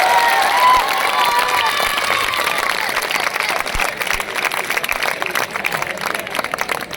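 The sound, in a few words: audience applause at a program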